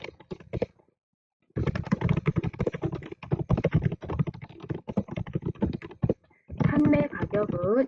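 Someone types a title on a computer keyboard while working on an Excel 2016/2021 spreadsheet. Quick, close key taps run in uneven bursts after a short silence, and a voice speaks at the end.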